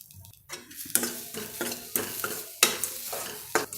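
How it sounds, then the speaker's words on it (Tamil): Spices and grated coconut sautéed in a pan for a ray fish curry: a spoon scrapes and stirs in repeated strokes with clinks against the pan over a soft sizzle. "இப்போ 1 நிமிஷம் வதக்கிக்குவோம்."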